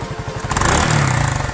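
A motorcycle engine idles with a rapid thumping putter, then revs up briefly into a louder, steadier drone, close by with some clattering.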